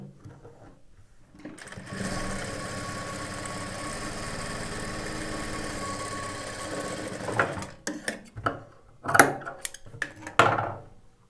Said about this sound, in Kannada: ಇದನ್ನು ಕಂಟಿನ್ಯೂ ಹಾಗೆ ಸ್ಟಿಚ್ ಮಾಡ್ಕೊಳ್ಳಿ.